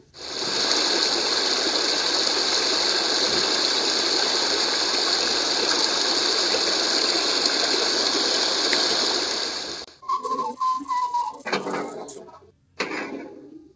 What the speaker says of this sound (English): Sound effects for the water tower include spout movement squeak, water hatch squeal and clang, water filling, talking engineer.